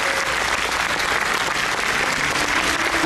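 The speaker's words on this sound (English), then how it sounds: "I want to have another huge round of applause for the AV team" A convention audience gives a big, dense round of applause for the AV crew, loud and sustained without a break.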